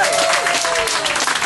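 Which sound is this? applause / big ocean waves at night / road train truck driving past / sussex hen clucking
applause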